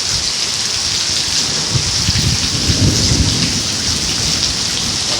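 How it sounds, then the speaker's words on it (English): Thunderstorm in the Antelope Valley: steady, loud rain hisses throughout while low thunder rumbles swell through the middle, with no voices. "this is a storm in the Antelope Valley"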